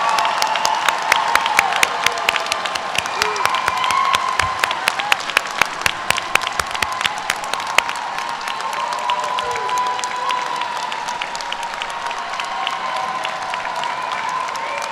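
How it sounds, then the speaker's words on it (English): An audience applauds doctoral graduates at a College of Education fall graduation ceremony, with sustained, dense clapping and scattered sharp claps throughout, steady and fairly loud with no talk over it. "Let's applaud all our doctoral graduates again for their hard work and dedication."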